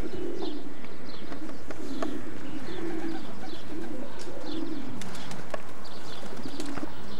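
Racing pigeons in a Nottingham racing loft coo repeatedly, low rolling coos pulsing at an irregular rhythm close by, with scattered small chirps and clicks between them.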